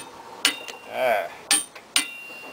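Torque wrench clicking as it reaches 150 foot-pounds on a wheel hub of a 2000 Ford Windstar, giving three sharp, close metallic clicks spaced apart, with a brief low voice murmur between them.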